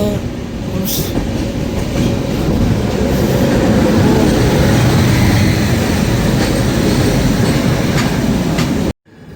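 An LHB coach train of the Radhikapur Express rolls through New Farakka Junction station at night, with a loud, steady rumble and rhythmic wheel clatter over the track throughout, cutting off abruptly at the end.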